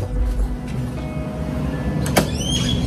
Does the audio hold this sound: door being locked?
yes